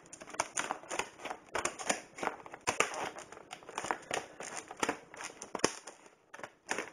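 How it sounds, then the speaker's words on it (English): Scissors cut through tough plastic packaging on a tester, giving repeated sharp snips and crinkling bursts at close range in an irregular rhythm. "I'm cutting with the scissors."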